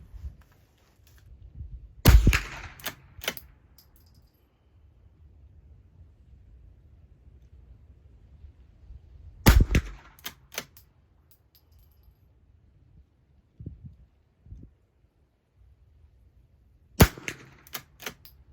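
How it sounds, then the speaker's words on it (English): Browning lever-action .22 rifles fire three sharp, well-spaced shots, each cracking loudly and followed by quick metallic clicks of the action being cycled, with quiet handling sounds in between. "We'll see if these Browning lever actions can shoot."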